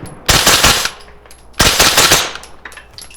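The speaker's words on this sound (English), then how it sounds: "That thing is a ton of fun to shoot, and it is so soft shooting and so quiet." Suppressed Broad River Tactical CAR-15 SD rifle firing two quick bursts outdoors at a range, each a rapid string of muffled, clattering shots followed by a short decay and quiet between.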